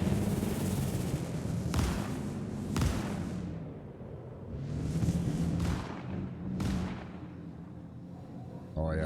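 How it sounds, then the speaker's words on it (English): Scatter shotgun in Star Citizen, fired in a few separate heavy blasts spaced a second or two apart, each a loud broadband boom with a dull rumble trailing behind it. "it's like a scatter shotgun"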